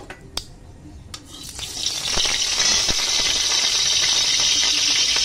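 Spices and chopped pointed gourd frying in hot mustard oil in a wok, a steady loud sizzle swelling up after a couple of faint clinks and holding broad and constant to the end.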